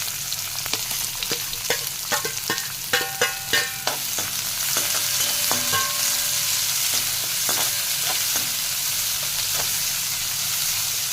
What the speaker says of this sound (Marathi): कांदा घातल्यानंतर तो आपल्याला स्लो गॅसवरच आहे ना छान असा मऊ द्यायचं आहे म्हणजे परतून घ्यायचं आहे